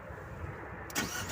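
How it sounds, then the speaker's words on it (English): A 2023 Abarth 695 with a manual gearbox starts up. A steady low hum near the mic gives way to a brief louder burst as the engine catches, with no talking. "let's turn the car on here and see what we can,"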